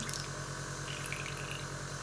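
An airbrush gun being cleaned, bubbling and gurgling steadily in a continuous close liquid churn with a faint rhythmic pump-like hum underneath.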